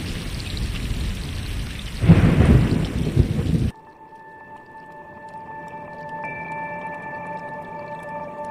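Thunder rolls through a lightning storm in the game Stray, a loud rumbling burst with rain-like hiss that swells midway, then cuts off abruptly into quiet, sustained tonal ambience.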